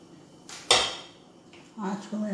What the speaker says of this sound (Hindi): डोसा बनाने के लिए मैंने पैन ले लिया है, पैन पे तेल डाला है थोड़ा सा। अब मैं ये बैटर डाल रही हूँ।